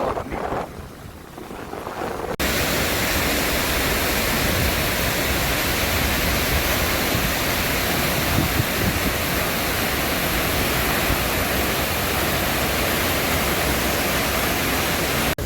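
Heavy rainwater pours over Malan dam in a steady, loud roar of rushing water that fills the whole stretch, with no voices over it.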